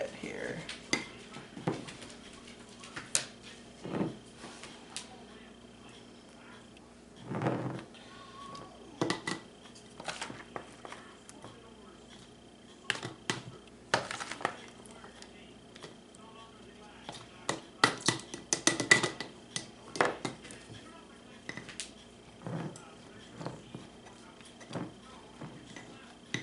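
A spatula packs vegetables down tightly into a jar for lacto fermentation, producing irregular taps, scrapes and clinks against glass, some single and some in quick clusters, close over a quiet background.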